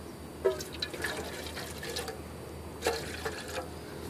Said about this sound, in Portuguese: Aí nós vamos fazer, nós vamos pôr um pouco d'água, beleza?